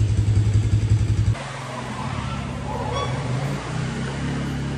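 An ATV engine cranks with a rapid pulsing start, then settles into a loud, rough idle that revs slightly, close by with no one speaking.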